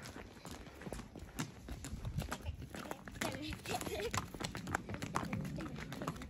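A horse walking on a path near Chandragiri temple, its hooves clip-clopping in an uneven rhythm close by, with people talking and bustle throughout.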